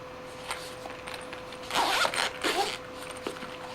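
The zipper on a small EGO kit carry case is pulled in a couple of quick rasping strokes close by, set against a quiet room with a faint steady tone.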